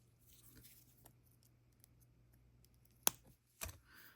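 Scissors trimming a beading wire tail during jewelry making: two sharp, quiet snips close together near the end, over faint background rustle.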